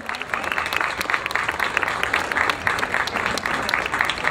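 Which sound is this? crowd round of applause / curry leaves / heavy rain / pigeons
crowd round of applause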